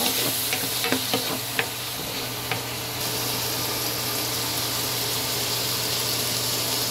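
Vinegar is stirred into a dish sizzling in a pan, with a few scraping clicks of the spoon at first, then an even, continuous frying sizzle.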